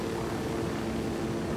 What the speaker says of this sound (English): We're in a helicopter right now.